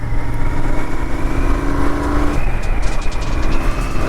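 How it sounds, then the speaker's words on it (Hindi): A motorcycle accelerates along a road leading into forest in Jim Corbett National Park, its engine loud and close with a steady droning tone that shifts as the revs rise midway, no talking over it. "और अब खींचता हूँ बाइक थोड़ी सी जंगल में।"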